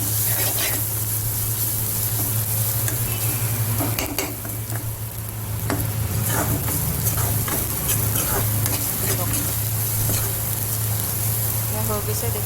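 Bamboo shoots fry and get stirred in a pan, loud steady sizzling with frequent scraping and clinking of the utensil against the pan, and a voice speaks intermittently over it.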